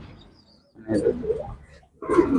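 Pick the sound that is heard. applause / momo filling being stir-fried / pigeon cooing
pigeon cooing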